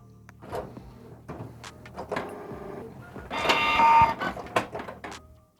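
A Canon Pixma G3520 inkjet printer whirs and clicks through a short run of mechanical movements while printing a nozzle check page, building to a louder stretch of carriage motion before settling.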